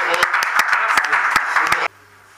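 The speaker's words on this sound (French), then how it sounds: "Applaudissons très très très très fort." An audience applauds loudly at a public event in a dense burst of clapping with sharp individual claps standing out, then cuts off abruptly near the end.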